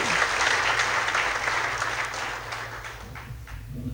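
Loud applause from an audience at a Gujarati talk on books and reading, a dense steady wash of clapping that runs throughout and tapers slightly near the end.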